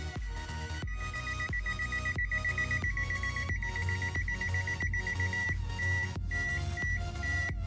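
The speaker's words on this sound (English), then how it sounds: "it's a breaking point, it's showing us beep" A ZT-X digital multimeter in non-contact voltage mode, held at a broken point in a damaged wire, beeps in a rapid, steady repeating pattern over a loud pulsing electronic background.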